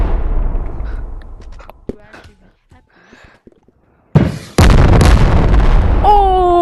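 RPG rocket explosions in the Animal Company video game: a rumbling blast decays at the start, a few scattered thuds follow, then a sudden close, loud burst gives way to a sustained roar, with a wavering tone near the end.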